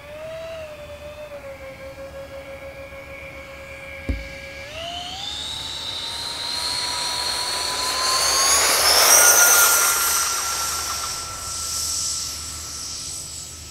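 An E-Flite F-14 Tomcat model jet with twin 40mm electric ducted fans whines steadily, then spools up with a sharp rising pitch and builds to a loud, roaring rush as it takes off and climbs away on its maiden flight.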